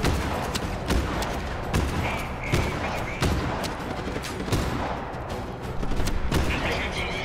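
Shotgun fire in the video game Just Cause 3 comes as repeated loud, booming blasts roughly every second over a dense backdrop of other gunfire and explosions.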